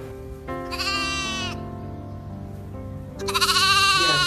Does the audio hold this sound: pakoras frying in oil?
no